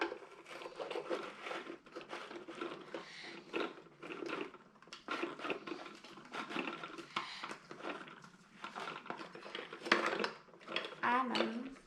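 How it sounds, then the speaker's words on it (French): A plastic lid is pressed onto a bath bomb kit container and twisted, producing scattered clicks, rubs and light knocks close by, with voices talking over it. "je vais mettre le couvercle et je vais tourner"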